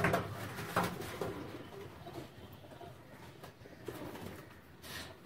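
A pair of black China pigeons coo softly up close, with a few low, throaty calls rising over a quiet background.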